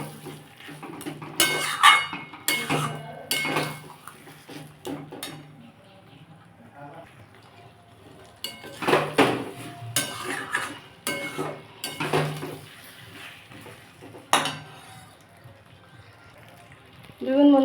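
Taro being stirred and sautéed in a pan with a little sugar, a Bengali home kitchen dish: irregular bursts of a spatula scraping and clattering against metal, separated by quieter pauses with faint background sound.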